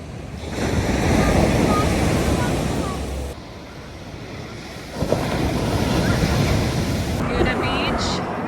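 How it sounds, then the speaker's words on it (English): Big ocean waves break and wash onto a California beach at Laguna Beach, a loud continuous roar of surf with heavy wind buffeting the microphone and surges of crashing water. "Stopped at the beach, saw some big waves."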